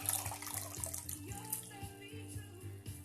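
Water runs quietly from a tap while a hot muslin cloth is wrung out, with soft splashes and trickles over a low hum.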